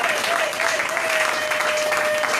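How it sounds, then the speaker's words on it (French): A church congregation at an Easter service applauds to acclaim the Lord, a dense continuous wall of clapping at close range, with a faint sustained tone running under it. "Est-ce que nous pouvons acclamer le Seigneur?"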